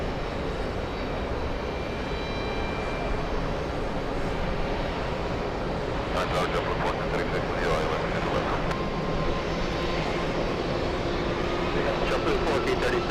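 Airliners landing on the runways at JFK airport, a loud, steady roar of jet engines that fills the whole stretch without pause, with a voice talking over it throughout.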